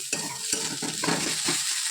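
Potatoes sizzle steadily in a hot pan while a utensil scrapes and stirs them in several short strokes, close up.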